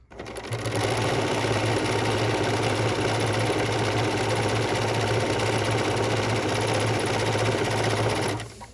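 A sewing machine with a walking foot runs a continuous serpentine stitch on a tree ornament, a loud, close, steady mechanical hum with rapid even needle beats for about eight seconds before stopping.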